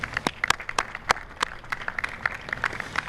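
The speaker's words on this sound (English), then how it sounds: "Kids, give your parents a round of applause" Middle school audience at an honor society induction clapping for the students' parents, a light, scattered round of individual claps that stays fairly sparse and thin throughout, with no speech.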